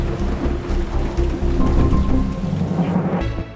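Heavy rain pours down on someone walking outdoors, a dense steady hiss of drops hitting surfaces, while deep rolling thunder rumbles loudly underneath before the sound fades at the end.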